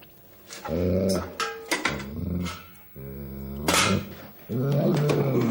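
A dog growls and grumbles in bursts while being played with in a scene from a TV crime drama. The sound is loud and close, with throaty rumbles rising into whiny, strained tones between short pauses.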